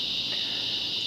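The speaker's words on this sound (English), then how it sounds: "there's the cicadas" Cicadas drone in one steady, loud, high-pitched buzz that fills the whole moment without a break or any talking.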